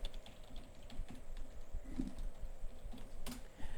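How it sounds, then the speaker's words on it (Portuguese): Soft, irregular key clicks as a password is typed on a computer keyboard, quiet and close, with a few sharper taps near the end and no talking. "Então eu vou digitar aqui uma senha."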